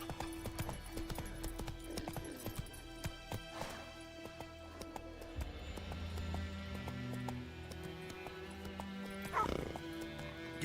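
Horse hooves clip-clopping at a gallop in The Witcher 3, with a couple of whinnies rising over the rhythmic thuds, close and moderately loud, with a dog-like bark mixed in.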